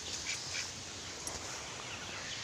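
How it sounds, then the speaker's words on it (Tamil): A duck quacks faintly as it waddles away outdoors, a few soft calls over steady background hiss. "நம்பர் 3 வாத்து. இங்கே பாருங்க, போகிறான் பாருங்க, குவாக் குவாக்குன்னு கத்திக்கின்னு போகிறான்."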